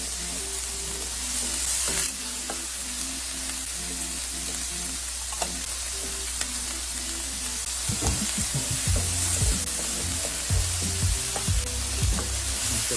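Meat fries with green bell peppers in a pan over medium heat, a constant close sizzle with stirring scrapes and thumps that grow busier midway, with no voices.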